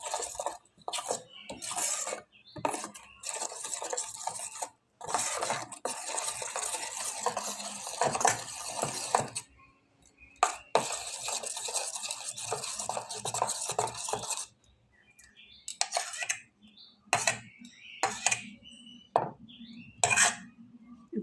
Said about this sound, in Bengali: ভালো করে ওকে মিশিয়ে নিতে হবে